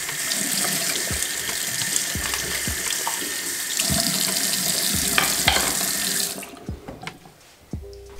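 A bathroom tap runs steadily while hair is washed, a continuous rushing stream with irregular splashes and knocks. The flow stops near the end, leaving a few drips and light handling sounds.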